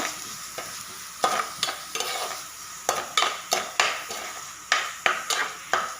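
Coconut pieces and prawn masala frying in a pan, with a constant close sizzle broken by sharp regular scrapes and knocks of a spoon as the mixture is stirred.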